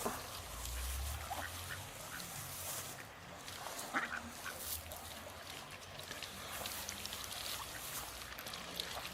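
Ducks quack and honk intermittently down by a river, faint and somewhat distant against a steady outdoor background hum, with no talk.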